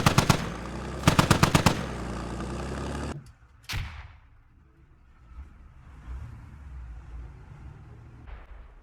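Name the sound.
gunfire exchange in video game Squad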